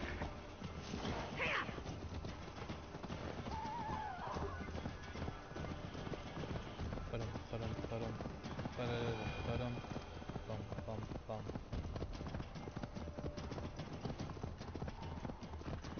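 Rapid, steady hoofbeats of a horse galloping in the video game Assassin's Creed Valhalla, continuing throughout with a brief whinny early on, while voices talk over the ride.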